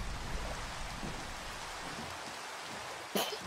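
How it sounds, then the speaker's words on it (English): Steady rain falling in the Minecraft video game, a soft even hiss throughout with one brief louder burst near the end, no talk over it. "Here's the fucking rain."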